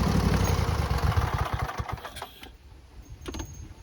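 A V-twin engine swapped into a racing lawn mower runs with a rough, pulsing idle, loud at first and then fading to a quieter, lumpy patter.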